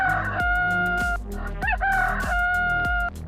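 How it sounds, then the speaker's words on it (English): A rooster crows loudly and close by, a drawn-out cock-a-doodle-doo with a rising middle, set against a plodding musical beat. "Rooster."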